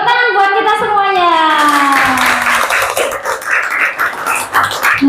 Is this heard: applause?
yes